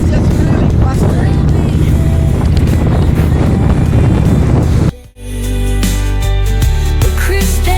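Strong, blustery wind buffets a microphone on a rainy motorcycle ride near Kinsale and Killarney, Ireland, a loud continuous roar that cuts out abruptly for a moment, then returns as lower rumbling with road noise.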